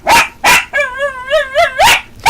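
A dog barks sharply and close several times, with a drawn-out whining yelp in between the barks, loud and alone.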